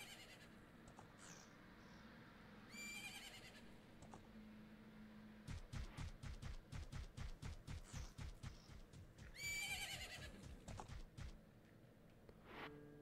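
Horse galloping in the Majora's Mask video game, a quick, even run of hoofbeats in the middle section, framed by brief chiming game sound effects and soft background music.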